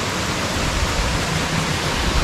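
Waterfalls cascade below a dam overflowing at Ganesh Tekri near Nathdwara, Rajasthan: a loud, continuous broadband rush of falling water with no pauses.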